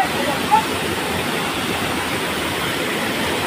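Water from a waterfall rushes in a steady, loud, unbroken roar, with a short faint chirp near the start.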